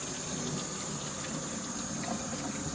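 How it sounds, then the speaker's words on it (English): Tap water runs steadily for a few seconds, a continuous close splash as hands are rinsed under a faucet in a kitchen while making eggs with Dijon mustard. "Rinse off my hands."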